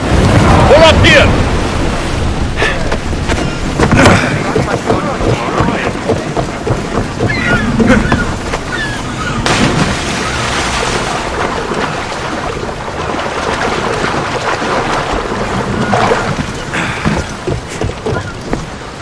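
Sailing ship under way at sea in Assassin's Creed Odyssey, with steady broadband rush of waves and wind against the hull throughout, punctuated by creaks and knocks, and voices heard intermittently over it.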